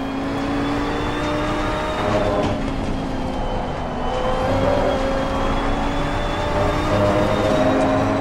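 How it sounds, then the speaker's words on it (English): A five-cylinder GT2 race car engine in the Assetto Corsa Competizione racing game gives a steady, droning growl. Its pitch shifts slowly and it holds at constant loudness throughout, with no speech. "let you listen to the engine sound here. We have a nice 5-cylinder"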